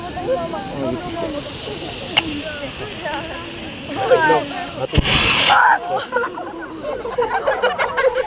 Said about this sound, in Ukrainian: всі охочі мали змогу за допомогою вогнегасника загасити справжній вогонь